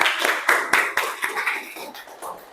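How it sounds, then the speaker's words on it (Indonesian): A classroom of students claps for a classmate, scattered hand claps landing in loose bursts, loud at first and thinning out toward the end. "tepuk tangan dulu"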